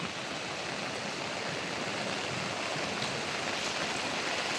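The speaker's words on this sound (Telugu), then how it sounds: "సాయినగర్ వంక అయితే భారీగా వస్తుంది వంక అయితే ఎట్లా వస్తుందో చూడండి" Heavy flood water rushes through a stream channel in Sai Nagar, Anantapur, a steady, loud broadband roar that stays even and unbroken from start to finish with no voices.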